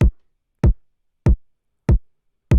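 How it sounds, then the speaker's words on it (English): A basic kick drum in a chill siren jam thumps once on every beat, five deep, punchy hits at a steady even pulse, close and dry with silence between them. "It's a pretty basic kick. Just comes in every beat."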